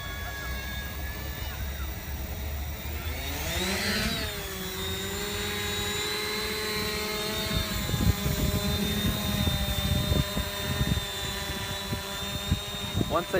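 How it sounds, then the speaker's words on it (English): A PX400 drone spins up its rotors on arming and settles into a hover, a steady whining buzz that rises in pitch early on, then holds, with some handling knocks near the end. "Once armed, set to hover mode by flicking your right switch to the middle position and slowly hover."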